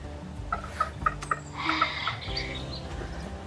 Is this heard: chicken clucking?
yes